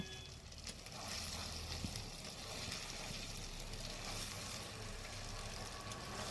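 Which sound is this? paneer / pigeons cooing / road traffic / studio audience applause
paneer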